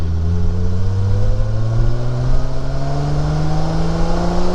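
A 1971 Triumph Vitesse Mark 2 engine revs up steadily from low speed, its loud, close drone climbing smoothly in pitch through the whole stretch.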